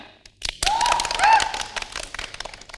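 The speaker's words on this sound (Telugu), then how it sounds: "క్లాప్స్" A studio audience at a televised comedy show bursts into applause after a short pause, with loud, dense clapping that swells, peaks, and then gradually thins out, heard close up.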